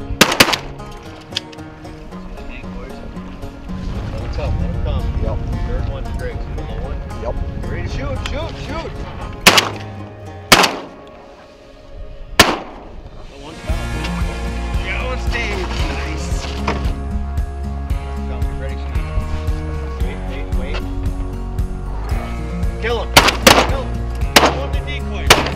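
Several loud, sharp shotgun blasts ring out while hunting King Eider ducks on St Paul Island, Alaska, spaced irregularly over steady wind and engine rumble, with people talking between shots.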